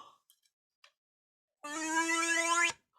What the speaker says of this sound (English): When I tip it, it makes a sound. And that's a groan, and a groan goes, ooh.